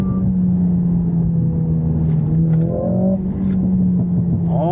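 A Mercedes-AMG CLA45 S 4Matic+ with a 2.0-litre four-cylinder engine pulls hard under acceleration, a loud, steady droning hum with rising engine tones and a few faint crackles from the exhaust.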